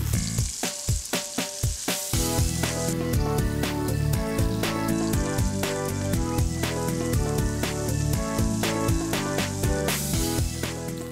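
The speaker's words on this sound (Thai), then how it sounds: "เมื่อกระทะร้อนนะครับเราก็นำอกเป็ดทั้งด้านหนังลงกันเลย" Duck breast laid skin side down in a hot pan for a medium or medium-rare steak, frying loudly and steadily. Crackling bursts sit over strong music throughout.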